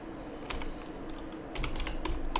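Typing on a computer keyboard in a quiet room, with short bursts of crisp key clicks and a faster flurry of keystrokes near the end.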